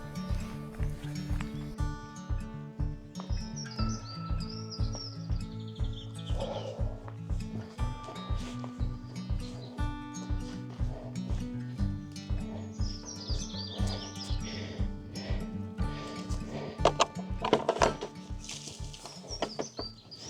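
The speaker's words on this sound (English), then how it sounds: "Wren's calling, lots of bird species up there as well, thrushes, chiffchaffs, all sorts of manner of birds" Woodland birds, including a wren, thrushes and chiffchaffs, chirp and sing faintly in the distance over a steady rhythmic thudding close by.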